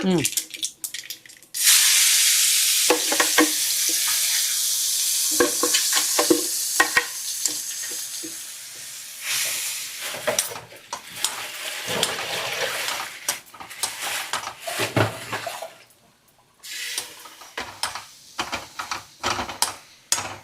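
Quarter kilo of Girmit chillies frying in a pan for pickle, a loud continuous sizzle with scraping and clattering stirring strokes, easing off briefly near the end, a voice faintly in the background.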